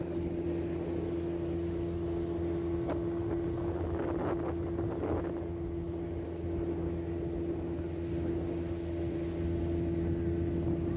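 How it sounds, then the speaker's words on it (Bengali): A small fishing trawler motors along a river near Dhalchar, Bhola, its engine a steady low drone with a constant tonal hum, heard close alongside wind buffeting the microphone. "এই যে ছোট ট্রলারগুলো দেখতে পাচ্ছেন, এগুলো হচ্ছে মাছ ধরার ট্রলার।"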